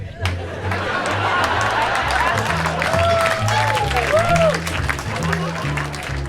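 An audience at a Houston comedy club applauds in a loud, continuous wash of clapping with crowd murmur mixed in, while a voice rises and falls underneath.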